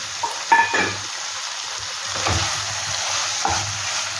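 Prawns tipped into a pan of cooking banana flower for a Bengali mocha ghonto, giving a close sizzle with a few clattering stirs and scrapes, then a steady hiss of frying, with no talk.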